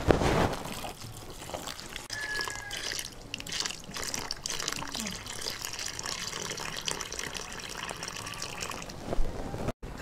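Water is poured into a vessel holding six kinds of mixed seeds for soaking, making a steady splashing trickle for several seconds with no talking.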